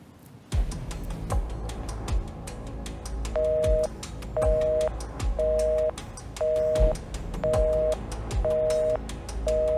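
A failed phone call in a Vietnamese crime drama: a steady series of short electronic beep tones repeats at regular intervals over a busy bed of clicks and low thumps, with no voices.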